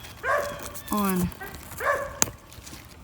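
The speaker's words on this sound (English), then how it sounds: "Sorry about that barking dog." A dog barks several times close by in a garden on a summer day, sharp separate barks with short gaps, alongside a brief spoken word and a small knock.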